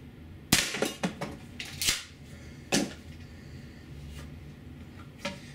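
An APS CAM870 CO2 pump-action shotgun on an 88g CO2 tank fires 0.68 caliber rubber shells: several sharp, loud pops at uneven intervals, with quieter pump clatter between shots.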